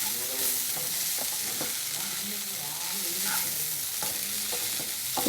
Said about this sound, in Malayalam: ഈ ചിക്കനാണ് ഇതിലിടുന്നത്